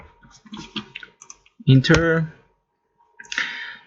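A computer keyboard being used to type a Linux terminal command: clustered quick key clicks and a firmer press of the enter key, close and crisp, with speech over part of the typing.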